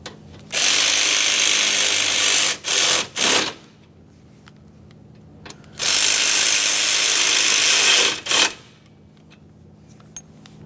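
Mounting bolts on a 1994-1997 Honda Accord 2.2L condenser fan assembly are run down by a loud power ratchet in two long, steady whirring bursts, each followed by short blips, with quiet gaps between.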